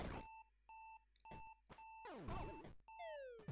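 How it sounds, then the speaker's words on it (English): Repeated electronic alarm beeps in the video game Axiom Verge pulse in a fast irregular pattern, mixed with sweeping synthetic tones and bursts of game sound effects. "Does sound like an alarm going off, doesn't it?"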